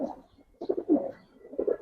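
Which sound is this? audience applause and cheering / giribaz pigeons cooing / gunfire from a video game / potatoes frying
giribaz pigeons cooing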